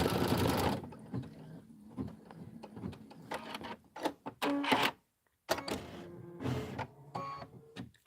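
An embroidery sewing machine stitches out a Kimberbell County Blooms pillow design in a sewing shop, giving a soft, uneven run of mechanical whirring and clicking, with a louder burst at the start and quiet gaps between passes.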